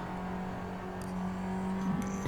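Race car engine in Assetto Corsa droning at steady revs under braking, then a brief rising blip as it downshifts into fourth; close, moderately loud, with no voices.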